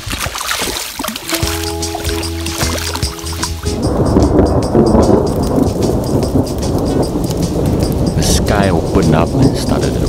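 Thunderstorm with steady heavy rain during a fishing trip in Mongolia, a dense continuous wash of rainfall with low rumbling thunder underneath and a brief tonal hum early on.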